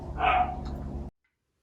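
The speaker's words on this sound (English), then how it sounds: "it was a real puppy's voice, not a robot's" Recorded puppy bark played from a Puppy Go robot dog toy: a single short, fairly loud yelping bark lasting about a second, then abrupt silence.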